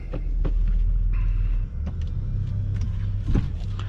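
A 2021 Toyota Camry TRD V6 on a test drive, heard from the cabin as a steady, loud low rumble of engine and road noise with slight swells, and no talking.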